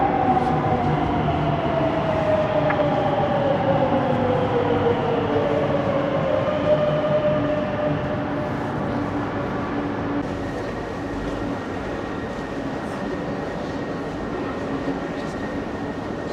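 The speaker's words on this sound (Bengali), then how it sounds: "তো এই জিনিসগুলো সুন্দর করে করছে যে শুধু দরজা খুলবো মেট্রো আসলেই" A Rome Metro C train arrives at Colosseum station, its loud rumble accompanied by a falling electric whine as it slows, then settling to a steady hum.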